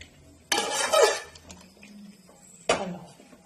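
A pan of Kerala-style fish pickle being stirred, with two sharp bursts of metal spoon scraping and clinking against the pan separated by a quieter pause, fairly close and with no talk.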